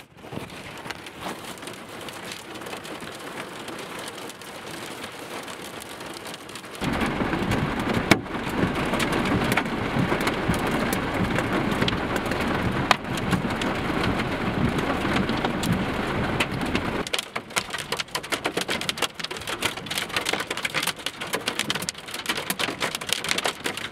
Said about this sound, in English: it was hail.